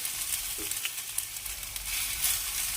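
Ginger paste hits a hot frying pan with a steady, close sizzle and faint crackles, broad hiss sustained throughout with small spits and scrapes, no talking.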